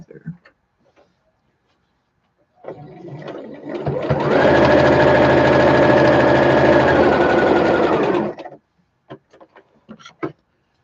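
A sewing machine stitching fabric runs in one steady, rapid whirring burst of about six seconds, with scattered small clicks and handling taps before and after, and no voices.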